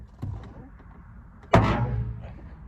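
A car door damaged in a crash gives one sharp, heavy clunk with a short metallic ring that fades, preceded by a few faint knocks.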